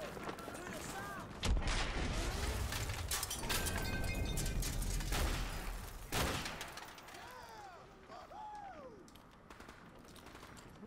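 Sustained, dense automatic gunfire from the Modern Warfare Remastered campaign, with heavy weapon bursts and overlapping shots filling the first half, then thinning into sporadic distant fire alongside whistling effects and faint background voices.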